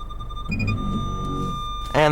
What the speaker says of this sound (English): You hear it will go beep beep beep beep beep.